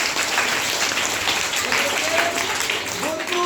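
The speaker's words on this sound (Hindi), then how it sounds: "ताली बजा जोर" Children in a classroom clapping loudly together, a dense, steady rattle of applause filling the whole moment, with a voice briefly audible near the end.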